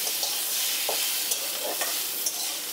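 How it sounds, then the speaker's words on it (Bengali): Tomatoes and garlic sautéing in a pan for a navratan korma, a steady hiss of frying with a few soft spoon-scrapes of stirring, close and unbroken, with no voices. "এবার এর মধ্যে দিয়ে দেবো দুটো একদম ছোট সাইজের দুটো টমেটো, এটাকেও খুব ভালো করে নাড়াচাড়া করে সাঁতলে নেব।"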